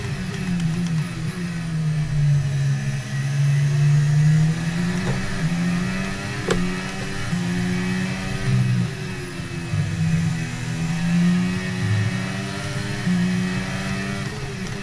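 An F1 car engine screams at high speed in the F1 2023 simulator game, a loud sustained high-revving drone with gentle pitch swells as gears shift, steady throughout with no talking.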